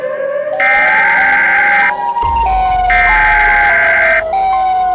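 A loud wailing siren, the Siren Head creature's call in a horror story, rises and falls in two long sweeping cycles with a deep rumble underneath, close and dominant throughout.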